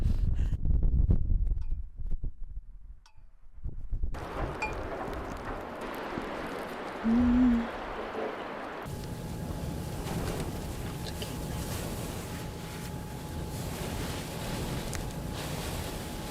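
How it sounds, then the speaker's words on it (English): Strong wind roars during a California blizzard, buffeting the outside of a Jeep in a loud, continuous broadband rush. Brief gusts and bumps break through, and a steadier muffled roar follows. "So windy out here right now."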